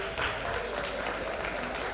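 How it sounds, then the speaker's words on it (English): An audience at a Hausa popular culture festival claps in a steady, fairly loud wash of applause that carries on without pause, with no speech heard over it. "You guys need to clap for me now."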